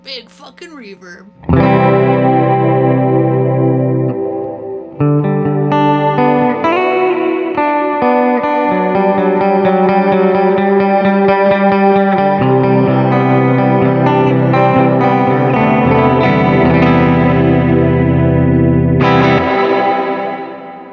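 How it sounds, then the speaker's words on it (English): Electric guitar played through a Walrus Audio Mako Series R1 reverb pedal set for a huge, smooth wash: sustained chords and notes bloom into a thick, loud reverb tail that lingers and swells before fading out. "That's a big fucking reverb."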